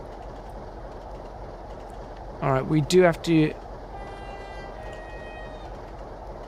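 A Class 47 Freightliner locomotive in the Trainz simulator runs steadily at a held power setting, with a low continuous rumble; someone talks briefly partway through over the engine drone.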